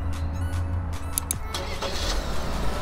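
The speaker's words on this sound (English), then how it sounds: "the car will actually start with the remote" A 2018 Chevrolet Malibu LT starts by key fob remote start: a low engine rumble with a short mechanical cranking catch midway, heard from close by at moderate volume.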